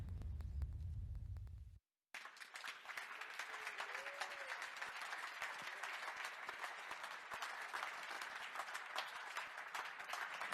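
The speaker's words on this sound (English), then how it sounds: "I'm glad we got a round of applause" A large crowd applauds at the Ducati MotoGP team launch presenting the 2019 Mission Winnow Ducati bike, a brief low rumble then a pause before dense, sustained clapping fills the hall for several seconds.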